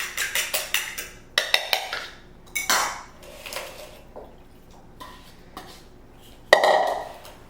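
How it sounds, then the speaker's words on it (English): Eggs for potato latkes are whisked in a bowl, giving quick rhythmic clinks and taps of utensil against dish in short bursts with brief pauses, close and fairly crisp. "We're going to mix these first and then add them to the potatoes."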